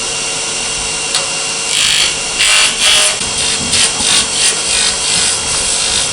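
A roughing gouge cuts wood spinning on a lathe, giving a steady loud scraping hiss with repeated rasping surges as the tool sweeps along the blank, heard alone with no talking.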